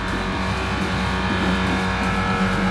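A sailboat's engine drones steadily with a low, pulsing chug, running continuously and fairly close throughout.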